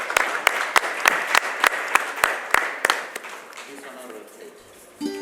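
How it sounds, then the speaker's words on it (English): Conference audience applauding at the inauguration of a smart utility event, a run of sharp, fairly loud claps that thins out and fades after a few seconds, followed by a brief voice. "Can we have a huge round of applause,"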